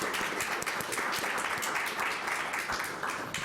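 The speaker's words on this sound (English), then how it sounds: "Please join me in a round of applause." A live audience applauds at the close of a panel discussion on property and politics, a dense, steady wash of many hands clapping at full volume for the whole stretch with no talk over it.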